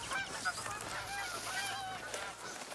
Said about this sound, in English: There's one over there, it's a grey-lag goose over there somewhere.